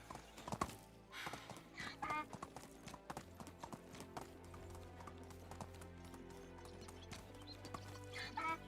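Hoof clip-clops from a donkey walking in the video game Medieval Dynasty, a steady plodding rhythm at low level beneath someone talking, with faint background tones.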